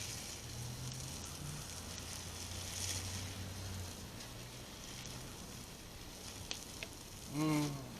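Crab cakes sizzle steadily on a hot griddle, a soft, even hiss running throughout, with a brief scrape or knock near the end as a spatula presses them flat.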